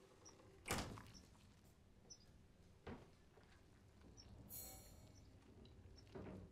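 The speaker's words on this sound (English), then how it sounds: "Close the door." A door shuts in the horror video game Resident Evil 7, heard as a few faint, separate knocks and thuds spread over several quiet seconds with no talk.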